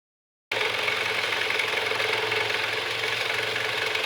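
A power tool cuts steadily through a ladder after half a second of silence, keeping a constant dense buzzing whine at a fairly loud level. Nobody speaks.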